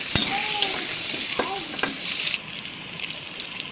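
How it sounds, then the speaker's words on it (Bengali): Cut potatoes frying in hot oil in a pan, a continuous crackling sizzle with scattered sharp pops and spatula scrapes, loud at first and easing slightly toward the end. "এবার আলুগুলো, কেটে রাখা আলুগুলো ভেজে নেব"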